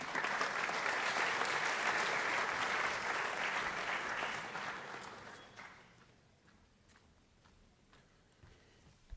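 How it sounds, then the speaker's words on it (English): An audience in a school chapel claps loudly for several seconds, then the applause fades into a few scattered claps and room quiet. "Please give a round of applause to Mr."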